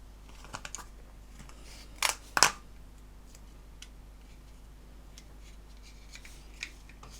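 Quiet snips and taps as Tamiya adhesive tape strips are cut and pressed onto an Airfix Mosquito PR XVI plastic model kit, with two sharp close clicks in quick succession amid faint handling noise.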